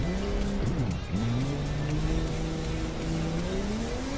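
A car races in The Crew 2 video game, its engine revving through gear changes and rising pitch with tire squeal, a loud continuous game soundtrack with no talking.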